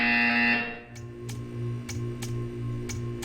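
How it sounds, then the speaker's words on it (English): In the video game Portal 2, a tonal electronic hum cuts off and is followed by a quiet ticking pattern of sharp, evenly spaced clicks over a low steady drone, with no voices. "When you hear the buzzer, stare at the art."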